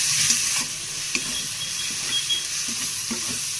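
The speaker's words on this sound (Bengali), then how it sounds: "এবার এটাকে একটু ভাজা ভাজা করে নেবো" Spices and salt frying in a pan give a soft, even sizzle, with scattered light stirring scrapes and clinks.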